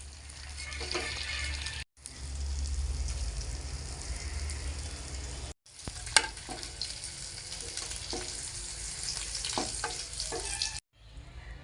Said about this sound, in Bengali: বাকি পনির একইভাবে ভেজে নেব।